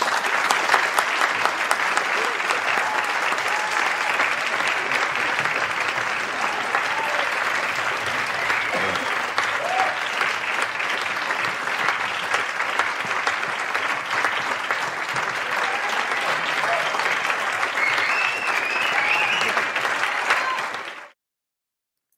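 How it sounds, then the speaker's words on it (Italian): Recorded applause from a virtual audience, played during a live Italian book broadcast, forms a steady, dense wash of many clapping hands that holds for about twenty seconds and then cuts off abruptly. "devo per forza dedicare e tributare un applauso, lo mandiamo in onda con questi amici virtuali che la stanno applaudendo"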